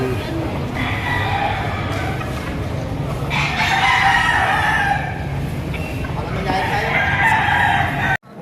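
Several roosters crow loudly and repeatedly over a noisy, busy background at a chicken market in Batangas, with clucking chickens and a murmur of voices.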